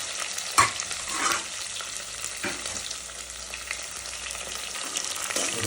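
Onions fry in a pan for vegetable rice with a steady close sizzle, broken by several scraping stirs of the spatula, and nobody speaks.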